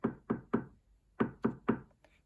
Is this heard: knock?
yes